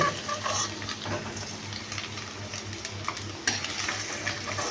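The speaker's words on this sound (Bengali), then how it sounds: "অল্প করে ভেজে তুলে নিচ্ছি" Paneer pieces frying in oil and being lifted out, giving a continuous close sizzle with occasional utensil scrapes and clinks.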